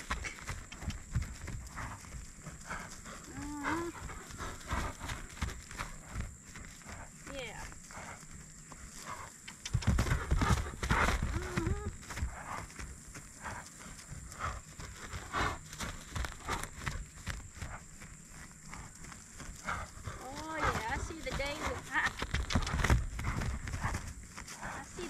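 A horse moving about and bucking on a lunge line, with irregular hoof thuds and scuffs that grow heavier in bursts, while a person talks and calls out.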